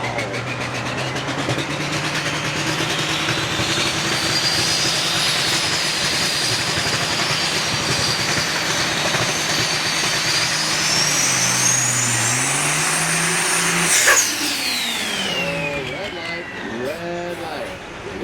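Big rig race trucks roar loudly and rise in pitch as they accelerate on a speedway track, with a crowd and announcer voice over the din.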